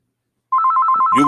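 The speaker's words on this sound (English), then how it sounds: "get a phone call, my landline." A landline telephone rings with a loud, close electronic trill of rapid even pulses that starts abruptly after silence, and a voice begins over the end of the ring.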